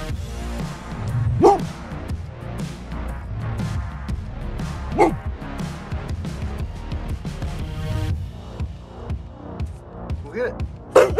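A dog barks and yips in scattered bursts, several sharp barks spread out over the span, heard beneath a person talking and other background sound.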